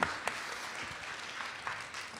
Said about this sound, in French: Je pense qu'on devrait l'applaudir.